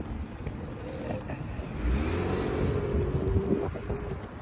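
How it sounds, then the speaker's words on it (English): A car passes outdoors, its engine swelling from a steady rumble to a louder, rising whoosh at the middle before easing off, mixed with wind noise and background hum. "Car coming."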